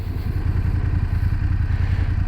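A 2019 BMW F750GS motorcycle engine running steadily while riding, a low throbbing rumble with rattling clatter and wind noise, no talking.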